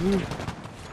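A sniper rifle shot in Battlefield 6 on Wake Island, a single loud, booming report that decays quickly with a short tail.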